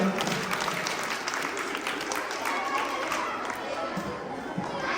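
An audience at a Navratri festival gathering claps steadily and densely for the whole stretch, with crowd chatter mixed into the applause.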